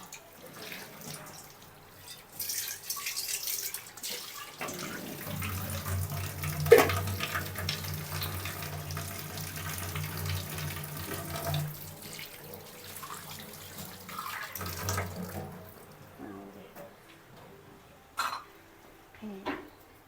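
Cooking pot being washed under a running kitchen tap, with splashing water and scrubbing in uneven bursts, close and fairly quiet, with a few brief clanks and no clear talking.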